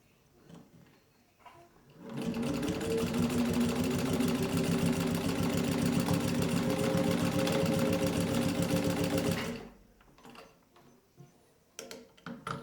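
A restored Singer 15-91 sewing machine stitches through leather in one continuous run of about seven seconds, its rapid needle rhythm loud and close, with quiet handling noises before and after.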